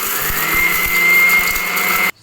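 An electric mixer grinder whirs steadily, grinding fried spices into fine masala powder for spicy mutton sukka, a loud close high-pitched whine with a faint rattle before it cuts off abruptly.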